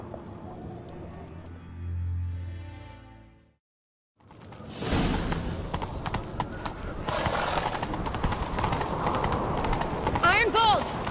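Hooves clatter in a fast galloping rhythm after a brief lull, loud and close, with a horse whinnying near the end and voices heard beforehand, in the video game The Witcher 3.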